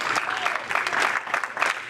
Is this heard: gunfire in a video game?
no